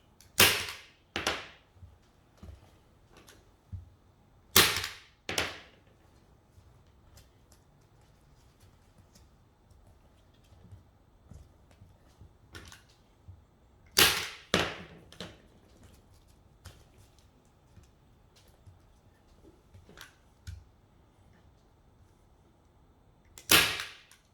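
A staple gun fires staples through canvas into its frame as the edges are hand-stretched and wrapped, giving a string of sharp, close snaps at irregular intervals, some loud and paired, with quieter clicks between and no talking.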